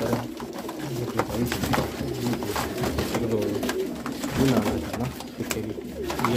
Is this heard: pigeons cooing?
yes